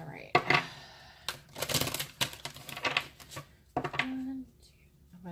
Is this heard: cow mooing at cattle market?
no